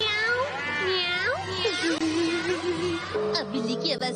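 A cartoon character wearing a cat suit imitates a cat with a string of drawn-out, rising and falling meows, loud and close, with a low hum of background music underneath.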